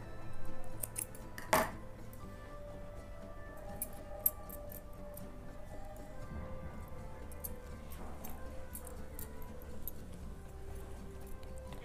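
A single sharp snip of scissors cuts thread on a woollen doll's dress, a brief close click standing out from an otherwise quiet room with faint handling noise.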